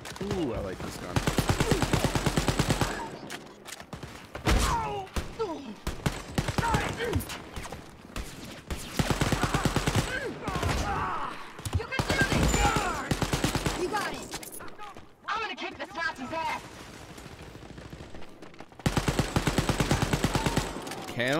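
A rapid-firing weapon in the shooter game Wolfenstein Youngblood blasts in long, loud, close bursts separated by short pauses, with someone talking between and over the shooting.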